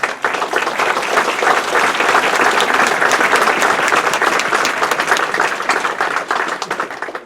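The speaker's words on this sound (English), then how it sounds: "So I want to applaud you, if I could, for a second." Loud, sustained audience applause at a political forum, a dense, even wash of many hands clapping throughout with no break.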